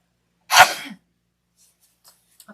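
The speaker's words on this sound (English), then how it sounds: "Excuse me, I'm going to sneeze." A single loud, close sneeze bursts out and trails off quickly, followed by near silence with a few faint rustles.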